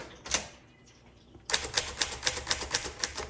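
A 1950 Underwood Champion manual typewriter types in a quick, steady run of sharp key strikes after one earlier isolated clack, loud and close with no voices.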